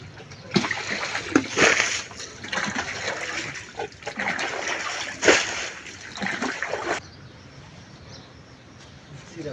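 Pond water is poured and splashed from a bucket in several loud bursts, with trickling and dripping between them and a quieter stretch at the end.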